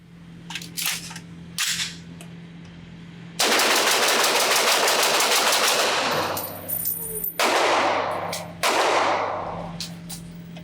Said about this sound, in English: pull the trigger as fast as I can, simply do a mag dump